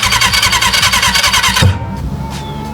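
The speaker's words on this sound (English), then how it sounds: "Was that a backfire?" A 31-year-old motorcycle engine cranks with a fast rhythmic starter whir, choke on, then cuts off with a sharp pop like a backfire, followed by a brief quieter tail; loud and close.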